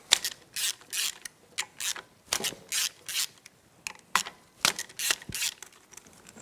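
A ratchet loosens the clutch spring bolts on a KLR 650 motorcycle in quick bursts of clicking, several short runs separated by pauses, close and fairly crisp.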